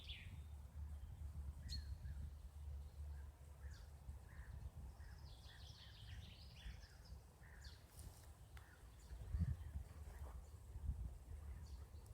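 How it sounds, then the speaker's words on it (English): Birds chirp and call outdoors in short, scattered bursts, fairly faint over a steady low rumble of background noise, with no one speaking. "you'll recognise those bird calls and possibly even know what they mean"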